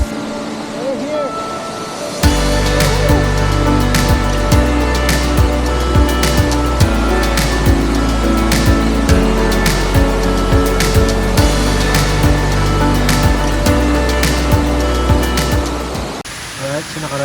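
Kaparkan Falls in Abra rushes in a loud, steady roar of falling water that swells in abruptly and holds without break.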